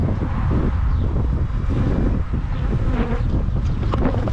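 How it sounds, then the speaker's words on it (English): Strong wind blows outdoors at a beehive during requeening, a constant rough roar buffeting the microphone, with bees buzzing faintly underneath. "Oh, the wind is getting really strong."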